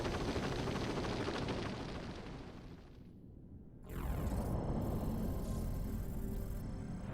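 Gunfire from Shelke in a Final Fantasy VII game, heard as a dense, continuous roar of blasts and rumble that drops away briefly, then returns loud with a sharp high-pitched ringing layer on top.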